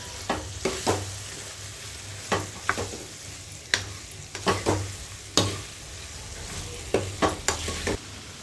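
A spatula scrapes and stirs chicken liver frying in a pan, with about a dozen sharp scraping strokes at an uneven pace over a low, steady sizzle.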